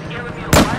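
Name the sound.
sniper rifle shot in Battlefield 4 video game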